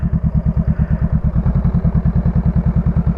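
A motorcycle engine runs as the clutch is released, making a loud, even, rapid chugging thump that pulses steadily and close up for a few seconds, with no voices.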